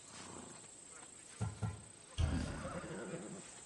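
A horse in the Assassin's Creed Odyssey video game gives short snorting bursts and then a longer whinny, fairly close, over a steady background hum with faint talk.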